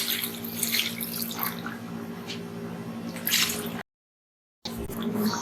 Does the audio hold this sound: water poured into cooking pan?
yes